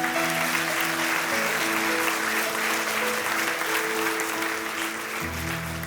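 A congregation at a church sermon claps steadily and warmly throughout, with faint sustained tones underneath and a brief low murmur near the end.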